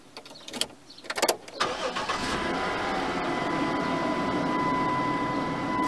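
A car engine cranks with a few uneven bursts after the ignition key turns, then catches and settles into a steady, loud idle that continues to the end; no talking.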